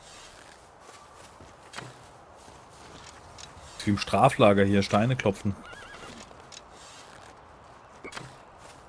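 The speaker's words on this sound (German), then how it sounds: "Ein Pferd, ne?" A horse in the survival game Rust whinnies loudly in the middle, with soft clip-clop hoofsteps on either side, while players talk over it.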